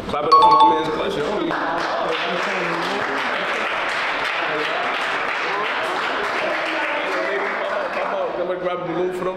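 Audience applause at a live dating game show, a sustained wash of clapping from a crowd that starts with a loud burst and holds steady for several seconds.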